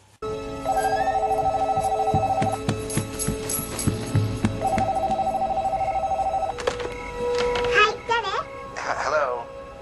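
A telephone rings twice in a movie scene as a jazz musician on a cruise liner calls Tokyo, each ring a loud, steady trill lasting about two seconds, followed by a voice speaking.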